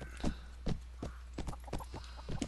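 Horse hooves clip-clop steadily in Brytenwalda, a video game set in 7th-century Britain, with a brisk, even rhythm of close, moderately loud hoofbeats and no talk.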